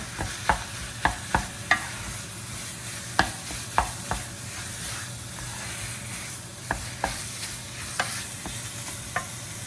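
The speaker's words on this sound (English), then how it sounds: "Stirring the pork, pressing it so that the porks are not lumped together." Ground pork sizzles steadily in a pan for kid-friendly pad kra pao while a spatula scrapes and presses it apart, leaving a string of sharp, close scraping clicks over the constant fry.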